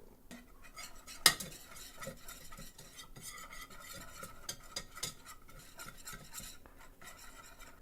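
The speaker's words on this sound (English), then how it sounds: "Butter is definitely melted now. Whisk in the flour." Flour whisked into melted butter in a pan over medium-low heat for a beer cheese sauce. Steady, close, rapid scraping strokes run throughout, with light metallic clinks of the whisk against the pan.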